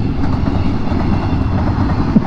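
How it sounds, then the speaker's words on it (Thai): A Thai freight train of tank cars loaded with flammable cargo rolls past steadily and loud on the eastern line, a continuous rumble of wheels and cars with faint clatter throughout, no voices. "โอ้รถไฟมาอีกแล้วคร ับโอ้สองขบวนเลยฮะ"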